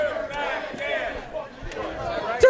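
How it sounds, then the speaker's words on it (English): Bar-room wrestling crowd chanting for a wrestler, a loud rhythmic group chant with voices rising and falling together, a sharp shout near the end. "Dirtbag Dan chant."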